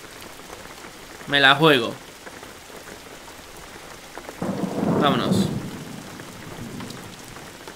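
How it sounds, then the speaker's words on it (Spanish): Steady rain drumming on a car body with a low rumble of thunder in the Jalopy driving game, continuous broadband patter under a voice speaking briefly twice. "Porque si no se escucha mucho la lluvia."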